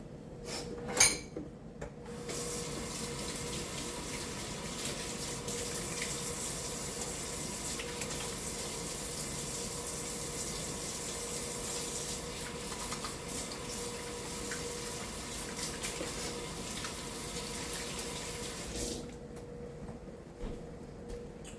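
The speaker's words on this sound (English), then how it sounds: "let me wash my hands" Water runs steadily from a kitchen sink tap for about seventeen seconds during hand washing, a continuous close hiss that starts and stops abruptly, with a few knocks at the start and no talking.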